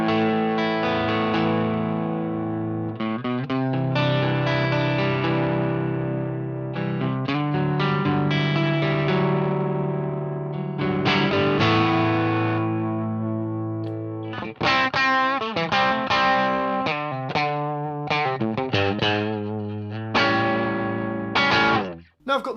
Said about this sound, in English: I've got my guitar plugged into the preamp pedal